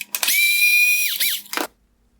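Power screwdriver whirring as it backs a T15 Torx screw out of the clear cover on a 2012-2016 Audi A6 bi-xenon headlight, one sustained whine of about a second with a short second burst, close and alone.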